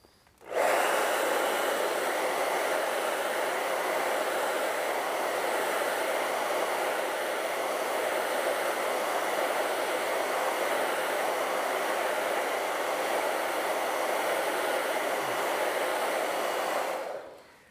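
A hair dryer blows on an acrylic painting of a rocky coast, a steady close whooshing roar running unbroken for about seventeen seconds before it switches off.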